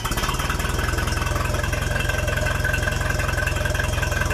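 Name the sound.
1966 Unimog U 302 engine idling with new muffler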